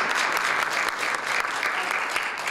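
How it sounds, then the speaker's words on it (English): At a film screening and panel in the Anchorage library, the audience breaks into close, loud, continuous applause that carries on for the whole moment without any speech. "Give yourselves all a round of applause."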